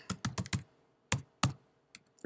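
Typing on a computer keyboard while entering a directory path, a quick burst of four close key clicks, a pause, two more sharp taps, then faint stray clicks.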